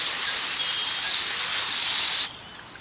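A steady, hissing spray of water rinses a freshly ground concrete surface, loud and close for about two seconds before it cuts off abruptly to near quiet.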